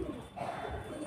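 A pigeon coos in soft, low, rolling calls close by, repeated a few times, in a keeper's pigeon loft.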